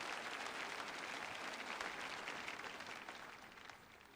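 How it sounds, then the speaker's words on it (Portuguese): A church congregation claps steadily through a sermon, a continuous wash of many hands at moderate, fairly distant level that fades slightly toward the end. "dê uma salva de palmas a Jesus."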